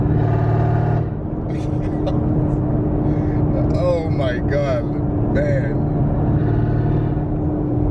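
A 1000 horsepower Camaro ZL1 drones loudly while driving in a high gear, its deep engine tone sustained throughout as a man exclaims over it.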